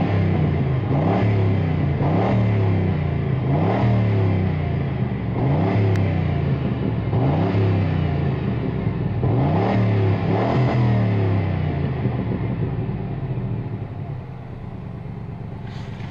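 A 2003 Lincoln Town Car engine with 121K miles runs at idle with a steady low rumble and periodic rising revs, loud and close with no talking, then settling slightly quieter near the end.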